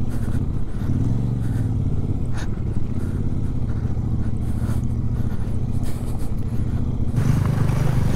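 Several motorbikes ride along a forest trail on a long ride with ranger officers, a loud continuous engine drone with occasional rattles and clatter from rough ground, close by and without talk.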